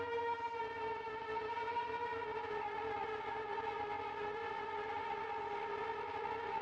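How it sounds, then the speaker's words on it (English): Sirens wail in a steady, sustained tone with layered harmonics, loud and continuous throughout with no voices. "here there are the sirens again"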